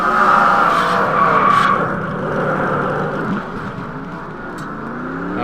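Race cars skid and screech through a wreck at Bristol in a racing video game, a loud, sustained tire squeal over engine roar that slowly fades.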